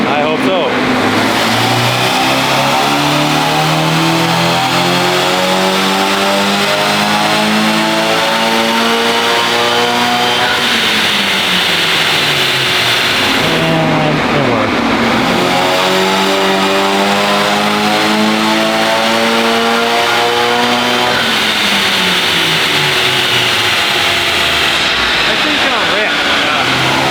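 A Honda Civic Type R FK8 with an upgraded turbo revs hard on a dyno, the engine climbing in pitch through long pulls, dropping back and sweeping up again. The sound is loud, close and sustained.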